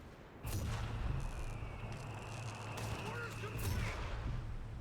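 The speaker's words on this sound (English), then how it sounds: "Oh, airburst barrage." Airburst artillery barrage in the real-time strategy game Company of Heroes 3, with several booming shell bursts over a steady battlefield rumble, moderately loud and continuous.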